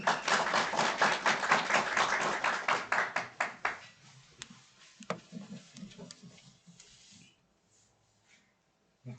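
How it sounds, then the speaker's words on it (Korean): Audience applause after a medical lecture on chronic hepatitis B for doctors, a burst of dense clapping that thins into scattered claps and fades to near silence. "알찬 강의 해주신 한종명 원장님께 다시 한번 박수 부탁드립니다"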